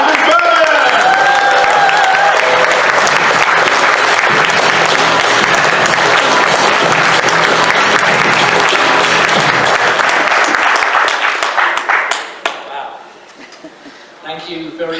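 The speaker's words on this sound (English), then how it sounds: "please give a big round of applause as they come to the stage" A large live-event audience at a fan convention bursts into loud, sustained applause with cheering to welcome speakers onto the stage, then the clapping tapers off near the end.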